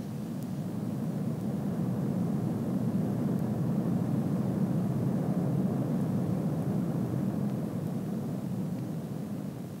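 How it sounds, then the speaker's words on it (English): A Boeing 747 jumbo jet carrying Space Shuttle Enterprise piggyback flies past near Glasgow Airport, a steady, moderately distant low engine rumble that holds throughout. "The shuttle flew past Glasgow Airport before leaving Scottish airspace."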